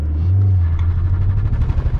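An old car's engine revs at lower RPM, giving a loud, close, steady rumbling drone that wavers slightly as the revs shift, with no voices.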